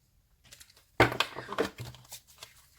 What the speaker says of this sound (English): bear with me while I shuffle through these cards